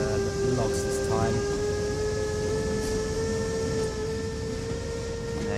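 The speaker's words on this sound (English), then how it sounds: "Train will now start moving slowly but surely, since we are carrying the full load" A freight train loaded with logs gets moving in the Train Sim World Ruhr-Sieg Nord simulation, with a steady rumbling drone, sustained tonal hum and a few brief squealing tones, heard loud and continuous.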